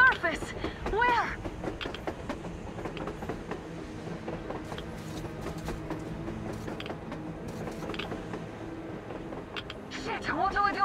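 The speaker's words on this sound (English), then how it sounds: "A train! A damn train on the surface!" A train rolling across the surface in the Metro Exodus game, with creaking wagons and rhythmic clickety-clack of wheels on rails over a continuous mechanical rumble, while voices talk over it at the start and end.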